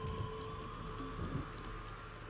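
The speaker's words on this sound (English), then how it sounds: "Right now, she's standing in the pouring rain with her umbrella up." Steady pouring rain hisses in the video game AI: The Somnium Files, an even wash of drops on surfaces with a low hum underneath and no voices.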